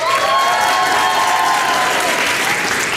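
An audience claps in a steady, loud burst of applause at a speaking event, many hands together filling the room.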